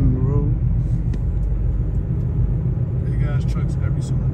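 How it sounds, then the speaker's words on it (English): Road traffic rumbles in a constant low drone with vehicles and trucks passing nearby, and a voice talks briefly over it. "Look at that traffic, bro."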